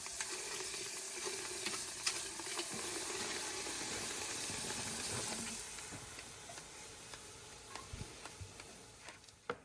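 Liquid nitrogen poured into a container and boiling off makes a soft, continuous hiss and crackling sizzle with scattered pops and ticks, faint and close, easing toward the end.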